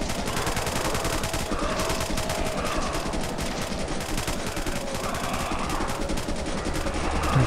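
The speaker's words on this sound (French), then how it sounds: "J'ai l'impression que la mitrailleuse, elle fait rien du tout." Machine gun in the video game Dread Dawn: dense, continuous rapid gunfire with overlapping shots, loud and unbroken across the whole stretch.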